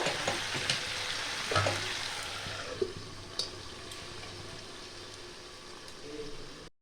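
Chicken masala cooking under a lid over a medium-low flame gives a quiet, steady sizzle and bubbling, with a few soft clinks and thuds that fade toward the end.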